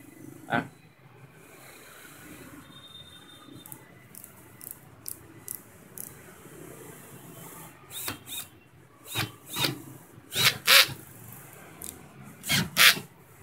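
A Total 18V cordless concrete hammer drill runs in a string of short, loud, rasping bursts of uneven length, growing denser and stronger toward the end, with quieter gaps between them.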